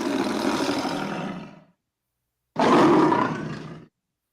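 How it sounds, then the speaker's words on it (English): A lion roar sound effect plays twice from a soundboard, two loud, close, growling bursts of about a second and a half each, separated by a short silence, with no talk over them. "The MGM line. A lion and a tiger."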